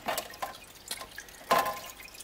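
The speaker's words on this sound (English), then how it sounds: "be sure to have the nozzle just above the water surface so you get like this nice flow of water coming out which agitates the surface" Aquarium filter outflow nozzle set just above the water surface, splashing and agitating it; soft irregular trickling and dripping splashes close by, with no talk.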